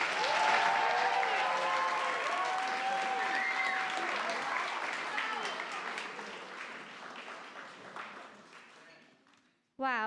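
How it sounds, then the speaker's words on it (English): Audience applause for graduates at an end-of-school-year ceremony, a long sustained wave of clapping with cheering voices and scattered whistles, gradually thinning out before stopping abruptly near the end. "Can we get another round of applause for our graduates?"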